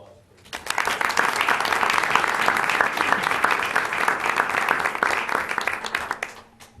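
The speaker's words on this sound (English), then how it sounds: "We give all the recipients one more round of applause, please." A school board meeting audience gives award recipients a round of applause, a full, even burst of clapping that swells quickly, holds for several seconds, then thins out and fades.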